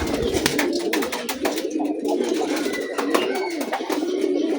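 Several pigeons, young birds among them, cooing and calling after being let out in the morning, with repeated throaty coos overlapping at close range over a steady background.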